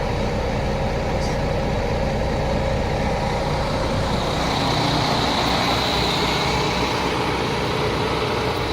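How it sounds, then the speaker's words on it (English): A large diesel truck engine idles steadily nearby, a constant loud rumble and hum with no voices. "All the engine is running."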